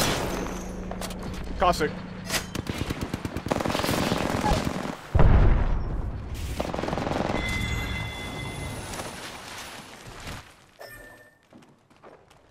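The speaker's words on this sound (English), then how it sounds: "There's a whole other unit shooting us with charge rifles." Charge rifle fire in the Apex Legends video game, rapid bursts of gunshots and sustained fire close by, with a player's voice calling out briefly over the shooting.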